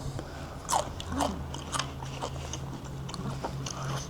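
Close crunching bites and chewing of a crispy bacon and egg hero sandwich at Wunderbar in Port Jefferson, a few crisp crackles over steady background hum.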